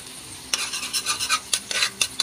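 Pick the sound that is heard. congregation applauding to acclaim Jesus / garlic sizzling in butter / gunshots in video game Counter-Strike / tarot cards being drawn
garlic sizzling in butter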